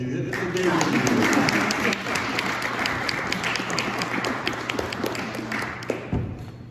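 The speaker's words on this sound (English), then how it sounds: "They need an applause." Audience applause fills a concert hall at a wind music competition event, a dense, steady wash of many hands clapping that holds for several seconds before thinning out near the end, with a low hum beneath it.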